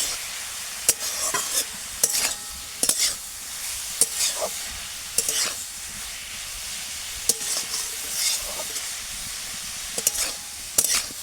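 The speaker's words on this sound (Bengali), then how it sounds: "আলুটা দিয়ে এটা একটু ভালোভাবে নাড়িয়ে নেব।" A spoon stirs kohlrabi curry with fried potatoes in a pan, steady sizzling broken by sharp, regular scrapes and clacks against the metal, recurring roughly every second or so.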